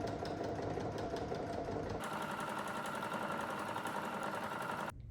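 A sewing machine stitches leather pants, running a steady, continuous motor whir with a fast needle rhythm that shifts slightly in tone partway through before stopping abruptly at the end.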